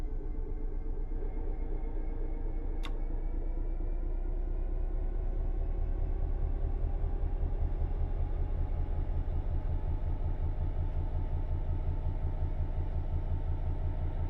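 A train in Train Sim World 5 reverses slowly into a siding, giving a steady low engine rumble and rolling drone that stays even throughout, with one brief high click near the start.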